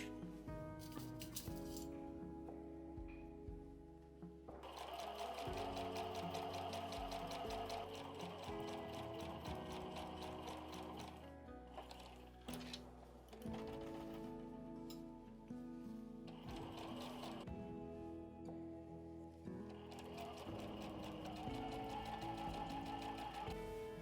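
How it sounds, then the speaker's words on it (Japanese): A sewing machine stitches all the way around the zippered top panel of a handmade shoulder bag, running at a steady, continuous pace with short pauses, close and clear. "そしたらこのファスナーつけたトップに縫います。 一周全部縫ってね。"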